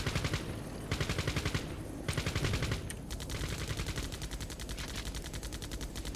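Rapid machine-gun fire in the tactical game Soldiers of Anarchy, several sustained rattling bursts separated by brief pauses, close and fairly loud with no talking.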